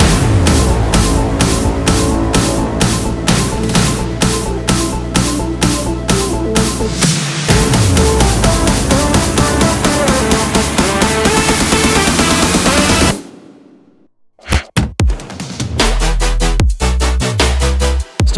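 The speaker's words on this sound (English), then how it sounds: "Your buildup should sound like this." A future house buildup packs dense, rapidly repeating synth hits and rising effects into a loud, bright wall of sound, then drops out briefly before stuttering glitchy hits return.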